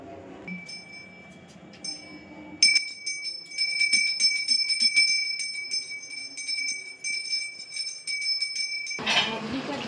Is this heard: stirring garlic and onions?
no